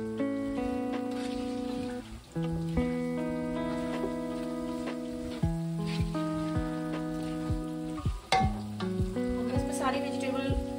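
Cauliflower and spices frying in a pan while being stirred, a steady sizzle running beneath prominent background music, with brief dips where the pan is stirred.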